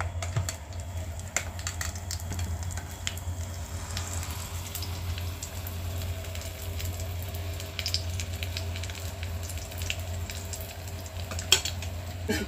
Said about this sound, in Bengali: আমি এখন হোয়াইট বাটারটা দিয়ে দেব